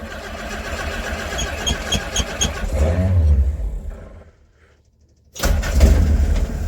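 The starter of a Willys CJ-2A jeep whirs and cranks rhythmically, the engine catches with a loud rising roar and revs, falls nearly silent for a moment, then bursts back into a loud close rev.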